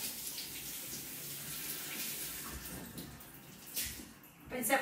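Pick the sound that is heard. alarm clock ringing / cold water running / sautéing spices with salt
cold water running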